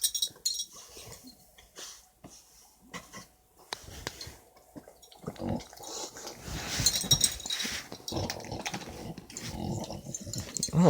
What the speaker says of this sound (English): I don't know why my dog's over there licking something